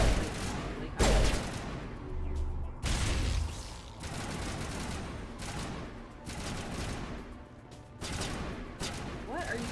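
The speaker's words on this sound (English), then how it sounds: "What are you guys shooting at?" Gunfire in Mass Effect Legendary Edition comes in loud bursts of rapid shots broken by short lulls, with talk mixed in underneath.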